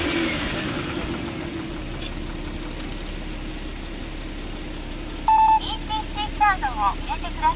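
Idling Toyota Soarer SC300 with a stock 1JZ twin-turbo engine, a steady low rumble heard close throughout, with a series of electronic beeps and chimes near the end and a voice briefly speaking.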